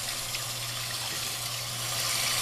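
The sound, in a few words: running tap water rinsing makeup brush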